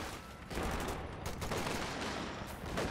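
Two machine guns in Company of Heroes 2 rip through attacking shock troops, a dense, continuous rattle of overlapping gunfire that swells after the first half second and holds steady to the end, with no talk.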